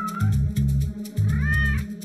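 A pet cat meows loudly and close by, several drawn-out calls in quick succession with short breaks between them.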